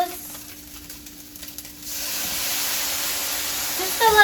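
Soy sauce hits frying chicken chow mein: after a couple of quiet seconds with soft clicks, a loud, close sizzle bursts in and holds steady, swelling slightly at the end.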